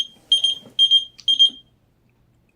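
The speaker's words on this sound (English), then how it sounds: "they still paging me, they still beeping me" Three bursts of high, rapid electronic beeping, each a short trill, spaced evenly, followed by silence and a brief voice at the end.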